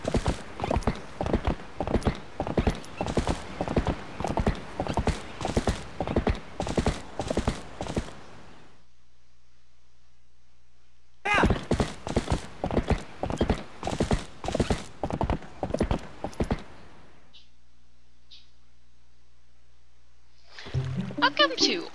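Horse hooves clip-clop in a steady, quick rhythm while riding a horse through a country village in an adventure video game, with two long runs of trotting separated by a pause, followed by a brief burst of other game sound.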